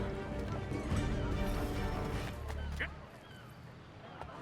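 Hooves clip-clop at a trot alongside a horse's whinny, with other game sound effects around them, in Assassin's Creed 3.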